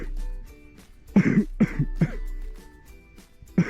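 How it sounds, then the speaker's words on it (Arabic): A single person gives a run of dry, harsh coughs, several short close bursts in quick succession, then one more isolated cough after a quiet pause. "السؤال التاني نوع الكحة اللي ممكن تكون كحة ناشفة وده صوتها"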